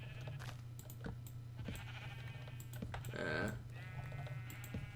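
Sheep bleat in Minecraft in short, clear calls over a steady low game hum, with faint clicking like keyboard typing mixed in.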